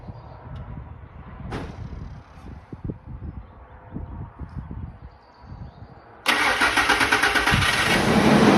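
An auction truck's engine, fitted with new spark plugs, plug wires and filter, cranks for several seconds with uneven starter chugging before catching and settling into a loud, steady idle.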